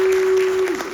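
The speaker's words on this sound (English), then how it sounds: "Give them a round of applause, folks." Audience applause at a district candidates' forum, a dense, steady wash of clapping that thins slightly toward the end, with a faint constant tone beneath it.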